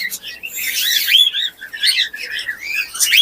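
Cockatiels and parrots chirping at a bird seller's stall, a busy overlapping stream of bright, shrill tweets and whistles close by, rising and falling in quick bursts without speech.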